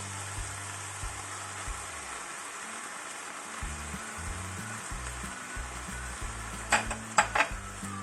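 A pan of cooked minced meat and onion keeps up a steady close sizzle as tomato goes in for a keto konjac spaghetti bolognese, with a few brief utensil clinks near the end and no talking.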